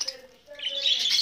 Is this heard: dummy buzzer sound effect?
no